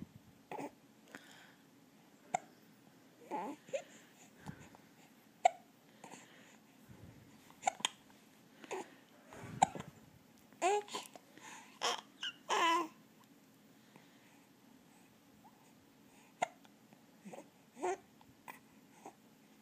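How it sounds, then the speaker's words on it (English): A child hiccups repeatedly in a quiet room, with a dozen or so short, sharp hiccups spaced irregularly at close range and a few soft whimpers or breaths between them. "Do you get the hiccups?"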